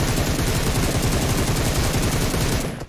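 An automatic weapon sprays a long, unbroken stream of rapid shots in PUBG Mobile, loud and dense throughout before cutting off at the end.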